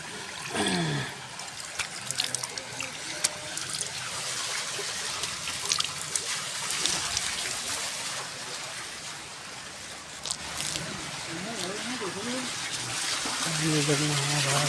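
Water spills steadily from the mouth of a Nandi statue at the Gangeshwar Mahadev temple, a continuous trickling splash heard close by, with people talking over it throughout.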